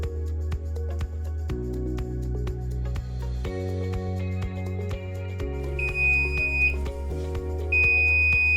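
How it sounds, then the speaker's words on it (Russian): A smart chicken coop's control panel: steady electronic hum tones step through several pitches, then a high, piercing light-and-sound alarm beep sounds twice near the end. "включилась сигнализация"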